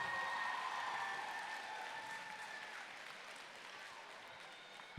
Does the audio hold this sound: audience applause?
yes